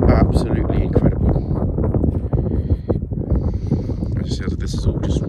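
Strong desert wind near Las Vegas buffets the microphone in loud, rumbling gusts that roar continuously, with faint rustling above the low blustery noise.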